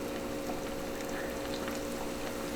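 Crappie fish frying in hot oil on high heat, a steady dense sizzle and bubbling that holds an even loudness throughout, with no talking.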